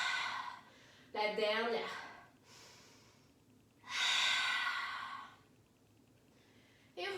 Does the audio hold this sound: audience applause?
no